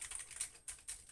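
Keys on an Amiga 500+ computer keyboard clicking in a quick, uneven burst of close, crisp taps, with a couple of louder clacks near the end.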